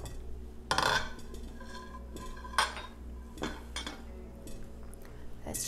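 A lid is lifted off a pot of steamed Chinese New Year rice cake in a quiet kitchen, giving a few soft metallic clinks and knocks against faint background hum.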